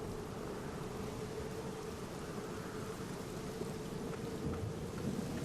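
Steady rain in the video game The Black Mirror falls as a dense, even hiss, with a low rumble of thunder running underneath throughout and no voices.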